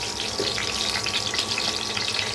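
Whole cumin seeds dropped into hot oil for tempering, a steady dense sizzle and crackle close by, continuous throughout with no talking.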